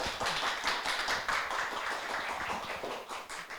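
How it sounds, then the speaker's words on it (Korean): Audience clapping as a guest lecturer, a professor and children's author, walks on stage at a Korean community healing concert; steady, moderately loud mixed clapping with no talk over it. "나오실 때 박수 부탁드립니다"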